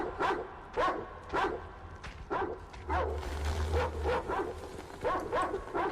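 Several dogs bark in repeated bursts in the Metro Exodus video game, fairly close and loud, with a steady low hum rising partway through.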